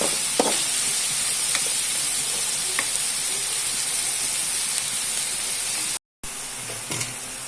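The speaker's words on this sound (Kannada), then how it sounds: "ಓಕೆ ಫ್ರೆಂಡ್ಸ್, ಇಲ್ಲಿ ನೀಟಾಗಿ ಫ್ರೈ ಮಾಡ್ತಾ ಇದ್ದೇವೆ." Bangude mackerel sizzles steadily in a hot pan for pulimunchi fish curry, a constant close hiss broken by a few light clinks and a brief dropout.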